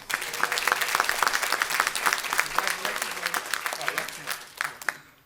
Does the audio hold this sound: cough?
no